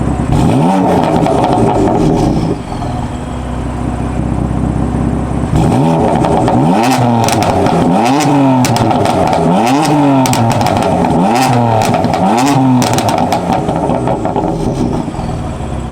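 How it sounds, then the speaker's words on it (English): A BMW M4 fitted with catless downpipes and a stock exhaust revs hard several times, each blip rising and falling sharply over a steady idle, loud and close. "So that's what it sounds like when you rev it up with the downpipes and the stock exhaust."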